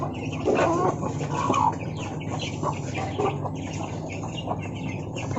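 Brooding hens cluck repeatedly nearby, soft overlapping clucks and short calls from several birds in a farmyard.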